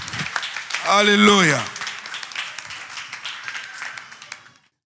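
A church congregation claps and applauds to acclaim God, steady close clapping with a loud sung or shouted voice rising over it early on, then the applause continues under murmured voices before fading out.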